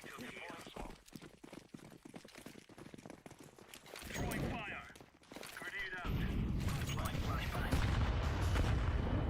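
Grenades burst in a Counter-Strike match during a PGL Bucharest 2025 esports broadcast, several booming blasts amid rapid gunfire while a player shouts over the action.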